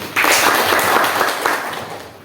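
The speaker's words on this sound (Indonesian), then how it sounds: "tepuk tangan untuk Asli" A group, likely a class, claps for a student named Asli, a loud, dense burst of applause that holds steady and then tapers off.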